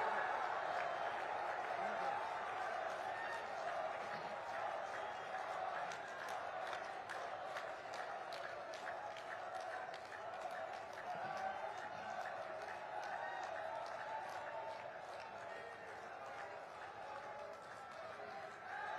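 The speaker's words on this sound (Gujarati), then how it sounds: "આવો જોરદાર તાળીઓના હર્ષનાદ સાથે આવકારીએ" A crowd at a live event in Ambaji applauds to welcome Prime Minister Modi, sounding as steady, fairly distant clapping and cheering that carries on throughout and slowly fades toward the end.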